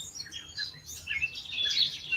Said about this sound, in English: Oh, look at the blue bird.